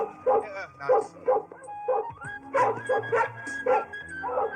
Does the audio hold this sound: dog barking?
yes